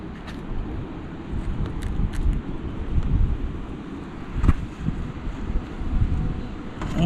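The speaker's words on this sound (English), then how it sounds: "But this wind is like really, really kicking." Strong outdoor wind buffets the microphone in steady, loud gusts throughout, with a few brief clicks and knocks over the rumble in a garden with a fountain.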